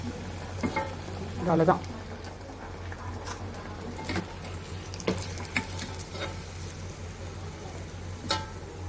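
Chicken cutlets fry in oil in a steel kadai, a low steady sizzle with scattered crackles and pops, one louder burst near the start, and a brief voice speaking.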